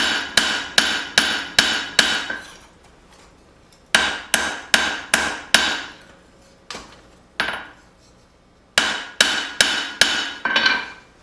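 Hammer forging bevels on a steel knife blade, sharp ringing blows in quick rhythmic runs of five or six strikes, close and loud, separated by brief pauses.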